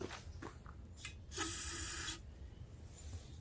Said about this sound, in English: I'm going to use some starting fluid.